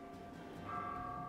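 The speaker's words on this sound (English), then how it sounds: "You can hear the bells ringing outside." Bells ring outside a Thai Buddhist temple, Wat Marukkharam Nakhon with its 50-meter chedi, as a soft sustained metallic ringing that brightens and grows slightly louder partway through, heard at a distance with no talking.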